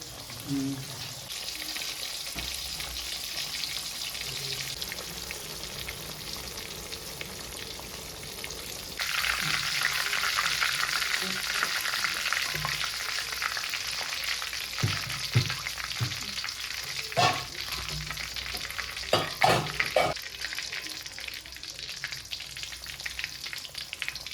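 Chicken pieces fry in hot oil for KFC-style fried chicken with a steady sizzle that turns louder and brighter partway through, with a few clinks from stirring.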